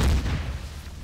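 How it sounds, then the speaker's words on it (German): A single deep, booming gunshot from the space survival video game Empyrion hits at the start, then rumbles and fades over about a second with no voices. "du kannst die Schüsse nicht ordnen, du denkst, die sind hinter dir"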